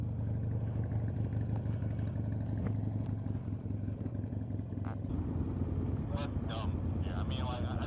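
Motorcycle engines rumbling steadily nearby while riding in Atlanta, a continuous low throb with a voice talking briefly near the end.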